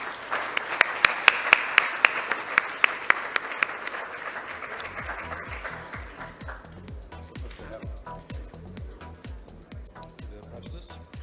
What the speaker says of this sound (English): with a huge round of applause, please welcome UNESCO MGIP Director Ananta Dweerappa